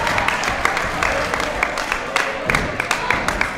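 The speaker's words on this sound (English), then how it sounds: "Uh-oh, this crowd getting behind Darcy Dixon" Wrestling crowd at an RWA Uprising 5 match cheering and applauding, a continuous roar of clapping with scattered sharper claps and shouts throughout, heard from within the arena.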